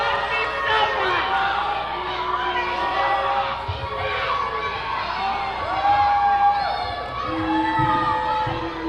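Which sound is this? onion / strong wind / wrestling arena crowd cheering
wrestling arena crowd cheering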